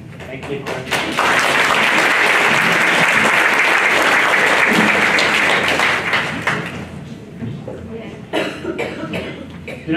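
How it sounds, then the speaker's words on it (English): An audience applauds at the end of a public health talk on skin cancer. The clapping is loud and sustained for several seconds, then thins out and tapers off, with a few coughs near the end. "One more round of applause for Dr. Maristar"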